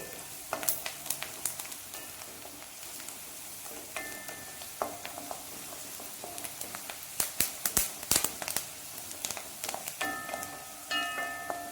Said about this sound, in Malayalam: പെരിഞ്ജീരകം ഇട്ടതുകൊണ്ടാണ് പൊട്ടിത്തെറിയൊക്കെ കേൾക്കുന്നത്.